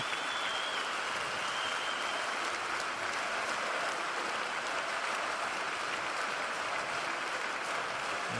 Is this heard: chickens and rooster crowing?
no